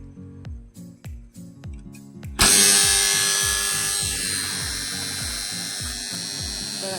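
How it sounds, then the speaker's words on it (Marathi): An electric motor for a farm irrigation water pump, used to water a field of guinea grass, gives a few rhythmic low thumps and then starts. It rises into a loud, steady whine and hum that keeps running to the end. "आता आपल्याला आता मोटर चालू करायची आहे"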